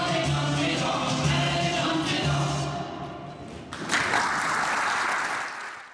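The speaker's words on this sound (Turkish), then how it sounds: "alkış tuttu" Applause from an audience at a health congress in Batman following the anthem, a dense steady clapping that fills the first half, eases briefly, then swells again to close.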